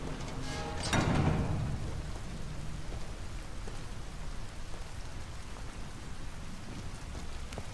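Steady rain falls in the video game Detroit: Become Human, a dense continuous hiss with a brief louder rumbling swell near the start, then even patter for the rest.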